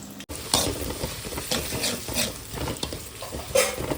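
Sliced onions fry in hot coconut oil, a steady close sizzle broken by repeated scraping and stirring strokes of a utensil against the pan, with no voices.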